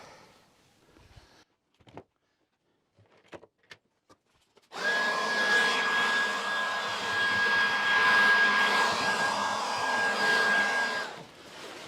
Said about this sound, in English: I'm just going to blow this dust all off.